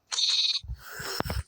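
Bleating sheep in a video game, a loud nasal bleat followed by a rougher second bleat, close and with no talk over them.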